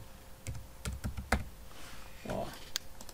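Computer keyboard typing at a desk: a handful of quick, irregular key clicks near the microphone over steady room hum, with a faint voice-like murmur in the middle.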